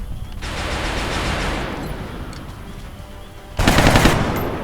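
Bursts of automatic gunfire from the squad-tactics video game XCOM: War Within, a long sustained rattling volley followed by a brief pause and then a second louder, sharper burst, with no voices over it.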